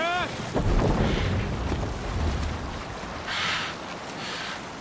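A boat is rowed through water in the video game Assassin's Creed Valhalla, with a steady rush of water and wind noise swelling and easing in waves, and a brief voice at the very start.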